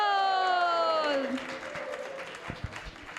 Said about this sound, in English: Let's give a big round of applause to all these kids.